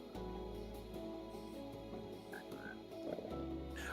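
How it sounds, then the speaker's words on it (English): Frog croaking in the Minecraft video game, several low croaks repeating in steady rhythm against soft game ambience, fairly quiet and with no talk. "Hey, frog."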